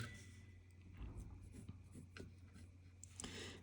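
A ballpoint pen scratches steadily across paper while drawing and shading graffiti alphabet letters, a faint, continuous scribbling with short strokes close by.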